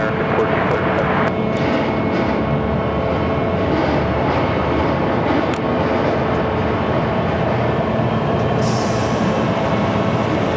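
An Airbus A321neo airliner powers up for takeoff on runway 7 left at Phoenix airport, a loud, steady jet engine roar that holds throughout.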